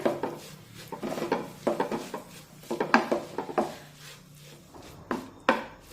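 A spoon scrapes and knocks against a pan while wheat flour dough for modak is mixed, giving irregular soft scraping strokes and light taps at close range, fairly quiet.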